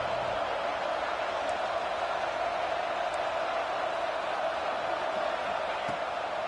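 A stadium crowd at a Texas Tech football game roars in a steady, dense wash of noise on a third down, continuous and even throughout with no pauses.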